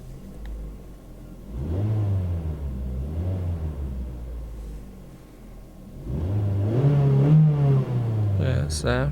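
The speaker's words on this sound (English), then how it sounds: "And just have a quick rev of the car." A Mazda 3 Sport engine revs up and down with a deep rumbling drone, rising to a louder, higher rev near the end.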